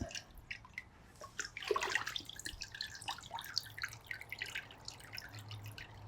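Water dripping and trickling as feet are lifted out of a warm soaking basin, a quick splashy burst followed by many small scattered drips, close and quiet.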